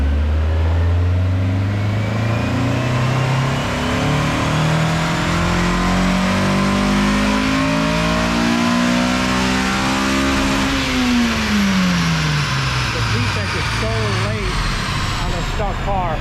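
A stock car engine revs up steadily, pitch climbing until VTEC engages and it jumps sharply into a higher, harsher howl, then drops off. Loud and close throughout.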